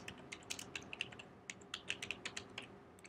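Quiet, close keystrokes on a computer keyboard come in quick, uneven bursts of sharp clicks with short pauses between words, with no talking.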